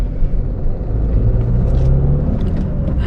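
Inside the cabin of a 2020 Honda City BS6 automatic under acceleration, a loud, steady low engine and transmission drone with a faint rising whine, continuous for a few seconds without speech.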